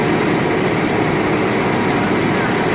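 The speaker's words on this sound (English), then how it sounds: "Every time the pump is on, that's the engine spinning." Medical air compressor unit with one motor driving two pumps, running as a loud, steady broadband drone with a low engine-like hum throughout, alone with no voices.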